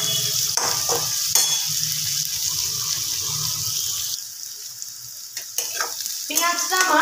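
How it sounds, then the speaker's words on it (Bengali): Chopped onions fry in a pan for an egg curry, giving a close, steady sizzle. Occasional stirring scrapes and clatters of the utensil break through the hiss. "পেঁয়াজটা আমার খুব ভালোভাবেই ভাজা হয়ে গেছে।"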